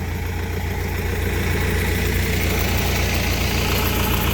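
A tractor engine working hard while preparing a field drones loud and constant at close range, a dense, unbroken rumble with no pauses or other sounds.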